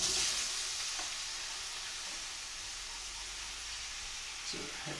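Thinly sliced onions and small potato pieces fry in hot oil, a steady close hiss of sizzling with a few faint stirring clinks.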